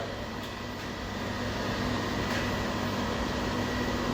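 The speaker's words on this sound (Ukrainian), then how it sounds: "Зараз ми будемо запускати наш насос." An industrial pump runs during equipment testing at a production plant, giving a steady, unbroken mechanical hum and broadband whir at constant loudness with no voices.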